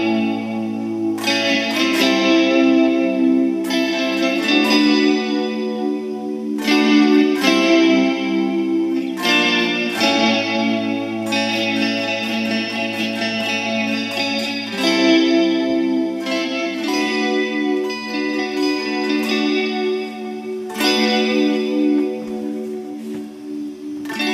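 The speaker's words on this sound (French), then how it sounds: "Et maintenant, je vais mettre la modulation au maximum." Guitar played through a Guptech WKB multi-effects unit with modulation turned to maximum and reverb left on, giving sustained chords a wavering, chorus-like shimmer; loud, continuous strumming in phrases, with no talking.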